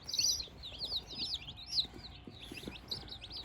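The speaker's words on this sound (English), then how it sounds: "I see her brought some baby chicks" A cluster of baby chicks peeping continuously, high rapid chirps overlapping close by in a barn, with faint handling knocks underneath and no talk.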